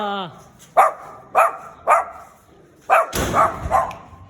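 A puppy yips and barks in several short, sharp bursts at close range, a brief whine opening the run and the barks coming in quick pairs toward the end.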